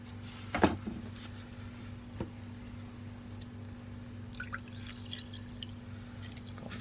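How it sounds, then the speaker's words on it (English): Home-carbonated fizzy water is poured into a fancy gin glass: a quick clink and splash at the start, then a soft, crackling fizz of bubbles rising faintly near the end over a low steady hum. "a fancy gin glass to pour it into"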